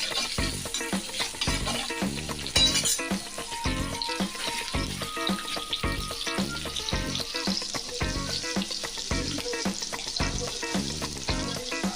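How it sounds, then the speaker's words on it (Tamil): Onions sautéing in a pan for chicken kurma, a steady dense sizzle and crackle with rhythmic stirring and scraping strokes throughout, close and loud with no talking. "இப்போ வெங்காயம் நல்லா வதங்கட்டும்."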